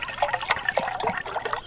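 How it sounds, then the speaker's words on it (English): Canteen water poured into an MRE pouch, a short burst of splashing, trickling liquid lasting under two seconds, fairly close and clear with no talk over it. "So about a quarter cup of canteen water there."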